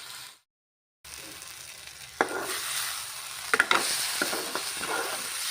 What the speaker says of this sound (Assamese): এইখিনি ধুনীয়াকৈ লৰাব যাতে আঠা মানে পানী ভাৱটো নোহোৱা হৈ যোৱালৈকে